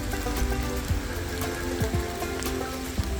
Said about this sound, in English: guess what? More rain.